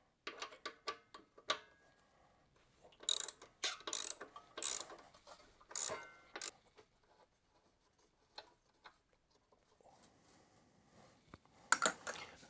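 A ratchet loosening a T40 bolt on the rear muffler bracket of a motorcycle, quiet bursts of rapid clicking with pauses between strokes, close up and alone.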